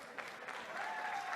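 A crowd at a grappling match in Buenos Aires applauds with steady, dense clapping, moderately loud and continuous, with faint voices and a commentator's talk mixed in.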